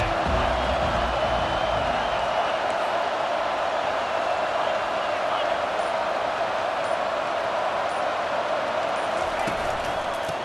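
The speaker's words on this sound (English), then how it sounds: "They challenge this crowd to bring the energy, and I'd say they're doing that." Stadium crowd in College Football 25, a dense continuous roar of cheering throughout, loud and broad, with commentary voices heard over it.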